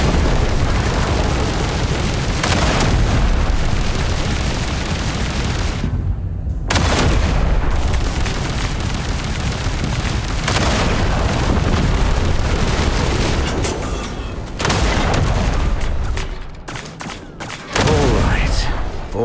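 Cannon fire with high-explosive shells in the video game Duet Night Abyss, a dense, continuous barrage of booms and blasts with brief gaps, loud and close, with game voices underneath.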